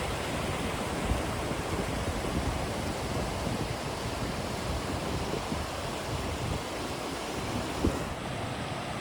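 Steady, broadband rush of a waterfall with a fish ladder, constant and fairly loud, with no voices or other sounds breaking through.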